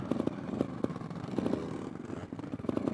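An off-road trial motorcycle rolls downhill with the clutch out, its engine running in a low, uneven putter with intermittent clattery bursts, fairly close and continuous through the span.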